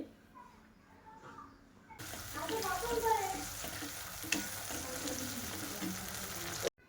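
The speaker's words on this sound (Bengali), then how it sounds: "সেই টমেটোটা দিয়ে দিলাম টমেটোটো দিয়ে বেশ ভালো করে কষিয়ে নেব তেলের মধ্যে দিয়ে" Tomato paste for kadai chicken hits hot oil after a quiet start, then fries in a steady, close sizzle with scraping stirs and one sharp clack, ending abruptly.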